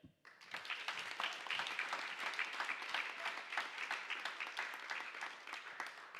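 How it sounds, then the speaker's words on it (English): Steady audience applause fills a hall at a Rockland Community College convocation, a dense, sustained patter of many hands clapping, moderately distant and without talk. "Let's give a round of applause to Nova and all the student and staff volunteers carrying our flags today"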